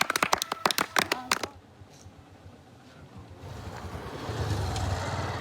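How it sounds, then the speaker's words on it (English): A short burst of sharp hand claps from a small group at a community gathering, a dozen or so crisp hits over about a second and a half, then it stops and low background noise and rumble take over. "Can you clap for him?"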